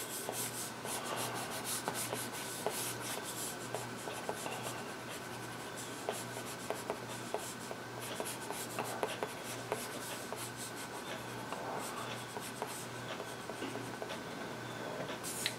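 A Penoval stylus drawing on a tablet screen gives a soft, continuous scratchy rubbing with faint tapping ticks. It is close and quiet, over a steady low hum.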